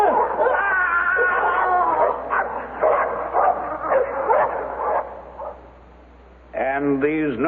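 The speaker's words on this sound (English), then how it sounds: "I heard dogs snarling and panting." Dogs in a radio mystery drama snarl, yelp and whimper with panting breaths in a steady, close run of overlapping canine vocalizations, then a short hush before a final burst of howling whines.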